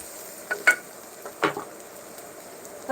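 Onions sautéing in a pan while a simple dal rice lunch is cooked: a soft, steady sizzle runs underneath, with a few brief stirring scrapes close by and no talking.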